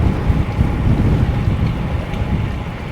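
Steady wind buffets the microphone at a waterfront along the Centennial Bikeway in Burlington, a continuous low, rumbling roar that fills the whole stretch with gusty surges and no pauses.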